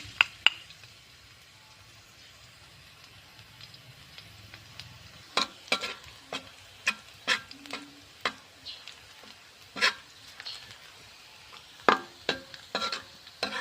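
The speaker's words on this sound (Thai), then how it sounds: "เอากระเทียมซับลงไปเจียว ให้หอมกันนะเ" Chopped garlic fries in oil in a pan, giving a soft continuous sizzle broken by a series of sharp scraping and tapping stirs of a utensil against the pan, close up.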